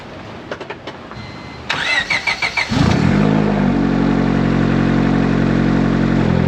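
A turbocharged single-cam Honda engine cranks with a few quick starter pulses, then catches and settles into a loud, steady idle close by.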